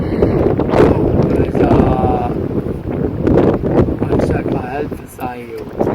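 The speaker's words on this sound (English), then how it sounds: "It's too windy outside to talk." Wind buffets the microphone outdoors with a low, rumbling roar while people talk over it, their voices partly masked by the gusts.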